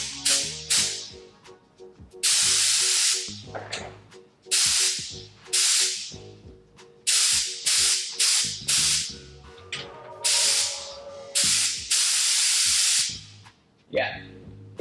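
Paint spray gun fed by an air compressor, firing repeated loud bursts of hissing spray with short pauses between them, each blast a second or two long, close up with a low compressor hum underneath.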